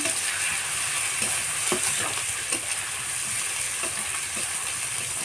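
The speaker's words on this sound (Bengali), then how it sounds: "রসুনটা প্রথমে দিয়ে একটু ভালো করে ভেজে নিতে হয়" Garlic frying in a pan over a very low flame for a chitol fish curry, giving a constant close sizzle and hiss with a few soft stirring clicks, and no voices.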